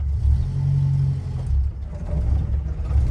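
A 1974 Renault 4L pulls away with its small engine humming and revving close by, a steady low drone that dips briefly midway and then builds again.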